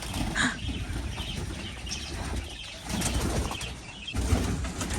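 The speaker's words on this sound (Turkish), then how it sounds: "İçeriye bir sürü kaçak serçe giriyor." Sparrows flutter around inside a farm building, with soft wing flaps and scattered chirps over a busy, close background of cooing and livestock noise.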